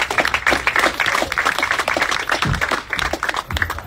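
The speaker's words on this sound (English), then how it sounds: "Let's give another round of applause for Miss Tanya Boyce and the Brand New Democracy Project." Applause breaks out at a community meeting: dense, close clapping from the audience, fairly loud and steady across the clip with small dips, with no talk over it.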